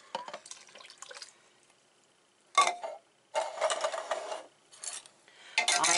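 Water poured into a Power Pressure Cooker XL pot while making spicy chili beans, heard as several separate close splashing bursts with short silent pauses between them.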